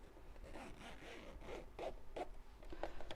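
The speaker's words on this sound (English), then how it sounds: "Now at this point, you can close the zip" A zipper on a sewing project is drawn closed in several short, scratchy pulls, close and quiet, with light rubbing of fabric between strokes.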